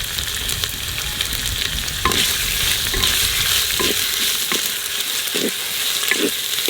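Onion, cloves, cinnamon and cardamom frying in a pan for a village-style curry of a large country rooster, giving a loud, constant sizzle broken by several soft scrapes and taps of a spatula stirring.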